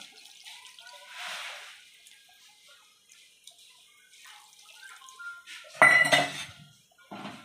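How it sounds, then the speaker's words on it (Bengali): Water is poured into a pan of Andhra-style chicken curry cooking over a high gas flame, with metal pan and utensil clatter, a brief splash and gurgle midway, then a louder burst of pouring and sizzling near the end. "এবার আমি দেখেন জল দিচ্ছি। গ্যাসটা এবার জোরে দিয়ে জল দিচ্ছি।"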